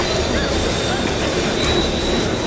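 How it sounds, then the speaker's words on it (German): Train rushing past in an audio drama scene, a dense, loud roar of rolling wheels with a high screech running steadily throughout, no voices. "Hinter uns raste der Zug vorüber."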